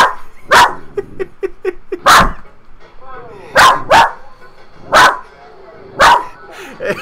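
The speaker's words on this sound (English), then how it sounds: "Maybe she's barking too much over there to that side" A West Highland White Terrier barks in sharp, repeated bursts, about eight loud barks with quicker yips between them, close by, while a person speaks softly in the background.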